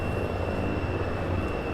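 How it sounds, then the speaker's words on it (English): Steady propeller airplane engine drone from small aircraft touching down and taking off at a small airfield in X-Plane 6, a continuous even roar with a faint high whine, heard alone without talk. "we got some more planes coming in here"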